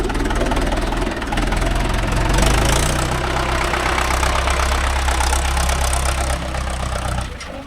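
A Mahindra 575 DI tractor engine runs on farmland, a loud, close diesel chug with a steady knocking rhythm and deep rumble that rises slightly, then settles before easing off at the end.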